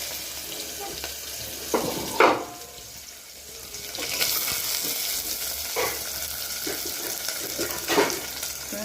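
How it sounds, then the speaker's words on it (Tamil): Onion and tomato frying in oil with mustard seeds for sambar, a close continuous sizzle broken by a few louder stirring scrapes and splutters, with no one talking. "இப்போ இதில் வந்து எண்ணெய் ஊற்றிருக்கேன், கடுகு போட்டிருக்கேன், இல்லை வெங்காயம் தக்காளி போடுறேன்."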